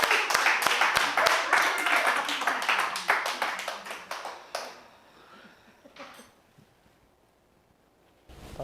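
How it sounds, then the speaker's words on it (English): A round of applause and clapping from a small group during a cooking show, loud and dense for about four seconds, then fading into scattered claps and quiet. "Y'all give me a round of applause, man."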